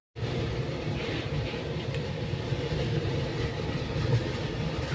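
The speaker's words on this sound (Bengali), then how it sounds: "আমাদের এখান থেকে ট্রেন ছেড়েও দিল" The 12192 Sridham Express running from Mathura to Delhi, heard from inside: a steady, loud, continuous rumble and roar of the moving train with a faint rhythmic rattle, unbroken throughout and with no talking.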